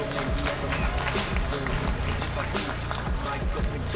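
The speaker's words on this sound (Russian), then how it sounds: "Ваши аплодисменты!" Applause and cheering from a boxing crowd as a boxer enters the ring at a Top Dog prospect fight night in Podolsk, a dense continuous roar of clapping filling the hall over loud event music.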